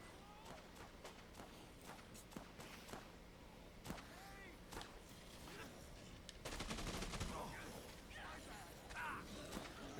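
Gunfire in Dead Rising 2 rings out as scattered sharp shots over a steady game background, thickening into a rapid burst of firing later on.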